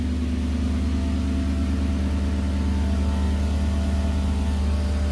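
The supercharged V8 in a 1969 Prince Gloria runs steadily with a loud, continuous low drone and no change in revs.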